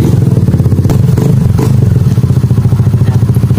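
Suzuki Burgman Street scooter fitted with an aftermarket R77 Small full-carbon muffler, idling close by with a steady, throbbing exhaust pulse and light mechanical clatter throughout.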